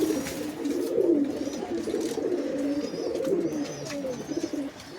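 Desi pigeons coo in a steady, overlapping chorus of low rolling calls close by, continuing throughout without talk.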